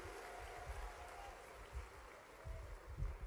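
Faint, steady clapping from an audience at a university digital launch ceremony in Guna, India, heard at a distance with soft swells and a voice faintly present underneath.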